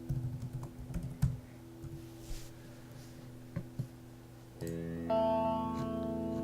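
A password being typed on a computer keyboard: a series of irregular close key clicks, then a steady droning tone takes over in the last couple of seconds.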